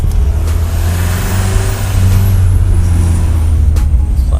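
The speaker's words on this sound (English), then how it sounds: "Check the exhaust out." Exhaust of a VW T25 Syncro van on an overland trip, a loud steady low rumble of engine and exhaust droning close by throughout, with no talking.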